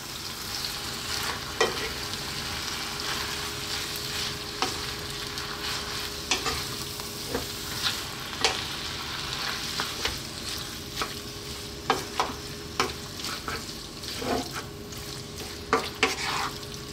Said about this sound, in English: I'm going to work this in for about 2 to 3 minutes, folding it in there